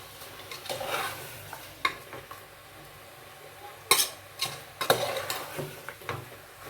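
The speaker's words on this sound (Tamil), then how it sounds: "இந்த இஞ்சி பூண்டு வெங்காயம் இதெல்லாம் மட்டனில் நல்லா பிடிக்கிற அளவுக்கு நான் நல்லா கலக்கணும்." Spoon stirring mutton with ginger, garlic and onion in a pan, giving scraping clinks and knocks at an uneven pace under a faint sizzle, close up, with no talking.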